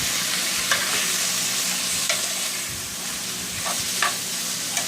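Thin raw milanesa beef cutlets fry in a hot pan with a steady, even sizzle, broken by a few soft scrapes or stirs, close up and with no voices.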